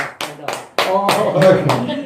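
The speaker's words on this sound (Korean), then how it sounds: "이거 박수 쳐줘요" A few sharp claps from a small group during a Korean Bible lesson on Exodus, irregular and close, with voices talking over them.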